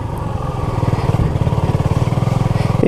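A Honda CB250RS motorcycle on a green lane revs its engine with a steady, pulsing thrum that climbs slightly and holds, loud and close, with no talking over it.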